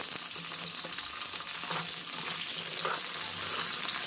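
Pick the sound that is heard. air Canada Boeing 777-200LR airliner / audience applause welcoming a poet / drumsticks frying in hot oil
drumsticks frying in hot oil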